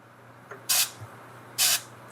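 Two sharp bursts of compressed air hiss from an airbrush as speed paint goes onto a miniature, each lasting a fraction of a second with a short quiet gap between them, close and loud against a low background hum.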